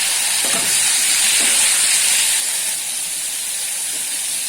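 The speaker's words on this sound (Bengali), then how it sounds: "কড়াই বসিয়ে দিয়েছি ওর মধ্যে দিয়ে দিলাম টমেটো কুচি কিছু দিয়ে লবণ দিয়ে দিলাম" Chopped tomato with salt hitting a hot wok, a loud steady sizzling hiss that eases slightly after a few seconds, with faint stirring scrapes.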